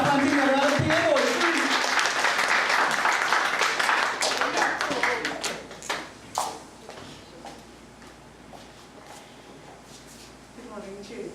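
Church congregation at a Mother's Day service clapping along to singing, a dense wash of hand claps and voices that is loud at first, then thins into scattered claps and fades toward the end.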